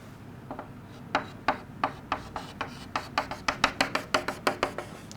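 Pen or chalk strokes drawing a physics telescope ray diagram freehand, a quiet series of short scratchy rubs in a quickening rhythm, close and faint, with no talk.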